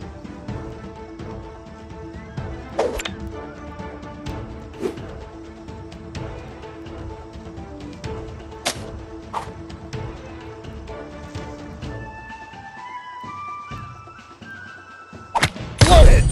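Bowmasters with Rufus holding a beef leg: repeated arrow shots land with dull thunks and thuds at irregular intervals over game music, ending in a louder impact as a headshot lands.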